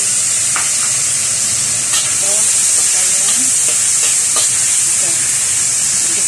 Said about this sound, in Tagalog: Gigisa po natin yung prawns at saka yung chicken para masarap po siya, malinamnam.